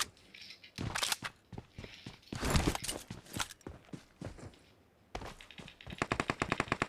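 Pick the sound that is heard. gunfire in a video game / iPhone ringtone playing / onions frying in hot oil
gunfire in a video game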